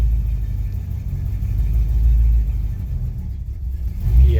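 Car engine struggling to idle while the throttle is feathered, a low uneven rumble that swells and sags in small surges, fairly close and without speech.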